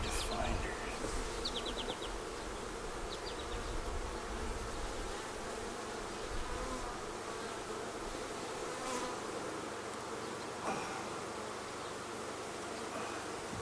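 Honeybees buzzing in an open hive, a dense steady drone close by with a few brief higher-pitched whines, no talking.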